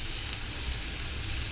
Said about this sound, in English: I'm actually going to crank the temperature a little bit, just to kind of get a nice little sear on these